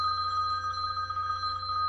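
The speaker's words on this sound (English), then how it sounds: "And of course my phone rings" A phone ringing indoors, a steady electronic ring tone heard clearly and alone, continuous over the short span with no voices.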